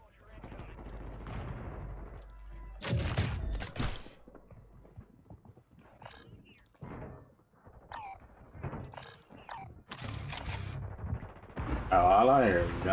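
Bursts of gunfire in the video game Call of Duty on Rebirth Island crack out in several clusters, loud and sharp, with quieter scattered shots between them and a rumbling, chattering volley at the end.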